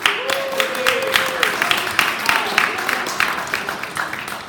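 Audience applause at a ceremony: steady, dense clapping from a crowd, with sharper individual claps standing out and a voice briefly heard beneath it throughout.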